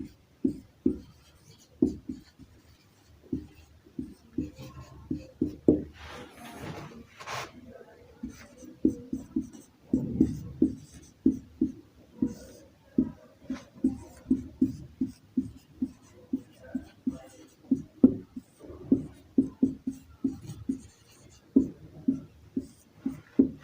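Chalk or marker taps and scratches on a board in short rhythmic bursts throughout a maths lesson on matrices, close and clear, with faint speech in places.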